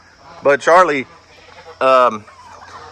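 A young turkey, already large and still growing, lets out two loud, close, harmonic gobbling calls with a short gap between them, over faint background hum.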